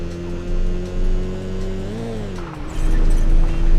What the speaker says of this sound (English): I guess it sounds like a supercharged V6